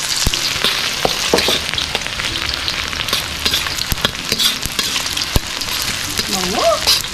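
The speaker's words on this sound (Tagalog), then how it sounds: "At dahil mainit na ating mantika, start na tayo maggisa." Onion and garlic sauté in hot cooking oil for a chicken innards dish, giving a steady, close sizzling crackle with scattered pops and stirring scrapes, and a voice briefly speaks near the end.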